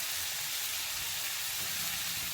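Onions and green chilies fry in a pan for chow mein with winter vegetables over a low flame, giving a steady, close, broadband sizzle that hisses evenly throughout with no talking.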